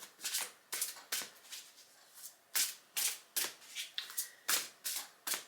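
Tarot cards being shuffled by hand: a series of crisp riffling, flapping bursts in an irregular rhythm, close and fairly quiet, with no talk.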